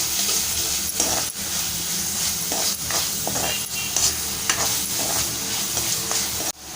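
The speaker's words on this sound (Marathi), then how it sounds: "छान असं परतवून घेऊया।" The white parts of spring onions sizzle and fry in hot oil in a pan, a steady hissing crackle with occasional spoon scrapes and taps as they are stirred, close and continuous.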